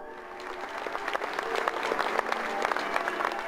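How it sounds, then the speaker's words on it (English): Spontaneous applause from a crowd outside a cathedral as Army colleagues leave a service, a dense, steady wash of clapping heard from some distance in the open air. "there was spontaneous applause as Army colleagues left the cathedral"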